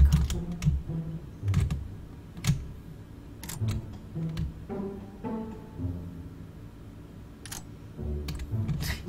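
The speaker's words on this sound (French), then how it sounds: "Parce que mon clavier fait un peu de bruit." Typing on a noisy computer keyboard, close and clacky, with irregular bursts of key presses and short pauses throughout, heard alone.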